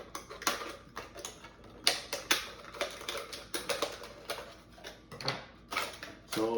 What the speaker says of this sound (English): And then we'll cut a hole in it.